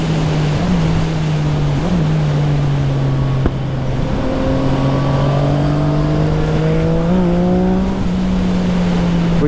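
A Yamaha MT-09 motorcycle is ridden hard on the road, its engine droning loud and close with steady wind rush, pitch rising and dipping through throttle changes and gear shifts, no voices.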